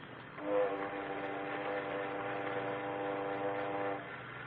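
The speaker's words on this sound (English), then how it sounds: "We'll be trying to match the volume of that boat whistle." A taped recording of a boat whistle plays back as a sustained, steady harmonic blast lasting about three and a half seconds, moderately loud and alone, with a low hum beneath.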